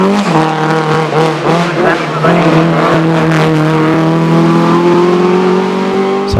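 A two-wheel-drive Peugeot hillclimb car with a Quaife straight-cut gearbox and rose-jointed suspension races up the Shelsley Walsh hill, its engine loud and close, revving through rising gear pulls with a steady whining drone and brief tyre squeal.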